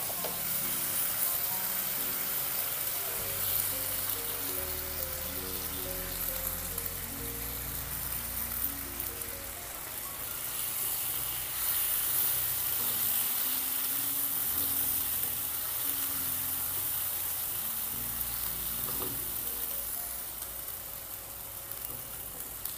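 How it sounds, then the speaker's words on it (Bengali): Spices frying in a pan for a soya and potato curry, a continuous close sizzle with occasional stirring, steady throughout with no talk. "এবার আমি মশলাটা একে একে কষে নেব।"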